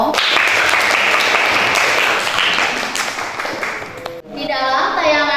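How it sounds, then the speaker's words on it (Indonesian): A classroom audience at a teaching session claps in a dense, steady burst for about four seconds, then the clapping cuts off and a voice begins speaking. "Tepuk tangan dong."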